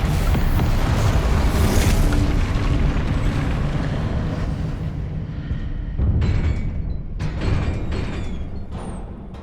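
Loud, rumbling spell blasts from the Confringo fire-explosion spell in Hogwarts Legacy, a sustained booming roar with a brief dip, then renewed crackling bursts, with no talk.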